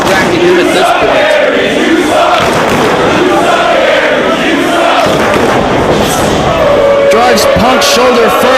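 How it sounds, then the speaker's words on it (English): Wrestling crowd shouting during an independent pro wrestling match, a loud continuous roar of chanting and yelling voices with occasional thuds from the ring. "Austin Aries could not afford to let this crowd get into his head"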